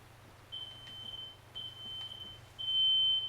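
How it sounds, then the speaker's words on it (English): An electronic beeping, like a smoke alarm, sounds in a video game in repeated high tones of uneven length, faint and in the distance over a low hum. "There is beeping in the distance"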